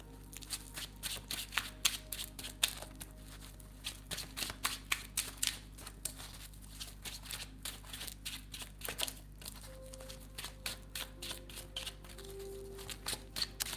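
Gold Leaf Tarot cards are shuffled up close in quiet, repeated bursts of crisp riffling and flicking, spaced irregularly across a soft background hum.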